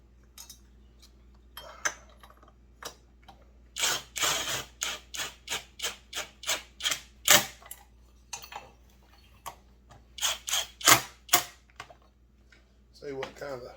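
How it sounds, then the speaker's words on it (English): Quick bursts of sharp metallic clicks and ticks as two bolts are run into a Husqvarna 372 hybrid chainsaw during reassembly, close and distinct against a quiet workshop background. "But we're going to run 2 bolts in here now."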